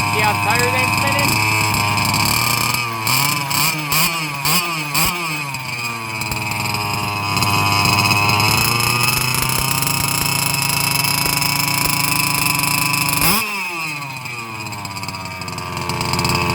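A fifth-scale RC car's petrol engine running low on fuel sputters and surges with uneven revs, a loud, close buzz that dips and stumbles before picking up again near the end, with a voice talking over it.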